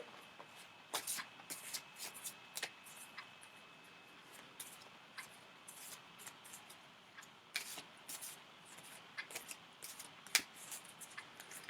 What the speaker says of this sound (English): Heidi, Bernadette, are you looking for cards? They will be very well shuffled